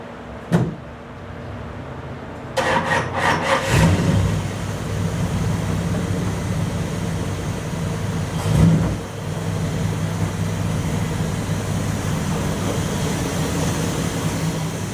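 A 1929 Chrysler car with a low tire rumbles as it is driven in, engine droning steadily at close range, punctuated by a sharp clunk early on and a rattling, bumping surge near the middle.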